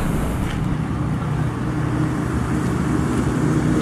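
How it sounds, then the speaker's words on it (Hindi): Traffic on the Delhi-Kanpur highway, a continuous broad roar of passing vehicles heard from the roadside with no voices. "और ये है हमारा दिल्ली कानपुर वाला हाईवे।"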